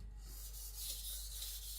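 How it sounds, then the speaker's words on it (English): A sharpening stroke cuts the burr off a blade edge under extremely light pressure, producing a soft, steady rubbing rasp that runs continuously and quietly with no talk. "Cutting the burr away."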